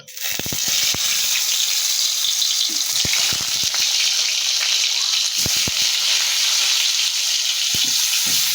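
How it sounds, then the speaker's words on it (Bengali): Slit pointed gourd (potol), rubbed with salt and turmeric, frying in hot oil in a wok: a loud, steady sizzle throughout, with scattered sharp pops and crackles rising over the constant hiss. "দেখুন এবার পটলটা আমি কড়াইতে দিয়ে ভাজবো"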